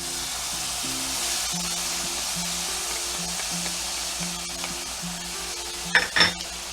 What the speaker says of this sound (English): Let's get these sauteed. Just till I start smelling them. Now we add our garlic.